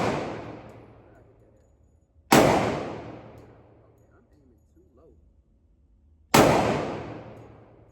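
Two loud, sharp gunshots at an outdoor shooting range, a few seconds apart, each with a long decaying echo, with faint sounds in the quiet gap between them.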